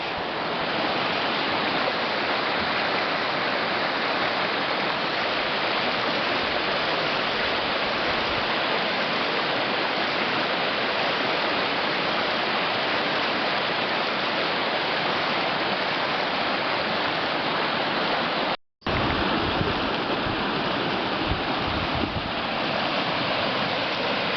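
A rain-swollen river rushes along the Fundy Footpath as a loud, steady broadband roar of churning water, unbroken apart from a brief cut near the end and close to the listener, with no voices.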